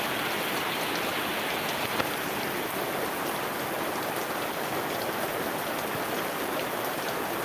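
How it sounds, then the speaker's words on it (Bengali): Heavy rain pours down steadily, a dense close hiss of drops on surfaces that stays even throughout with no voices. "বৃষ্টি ভালোই লাগে তো"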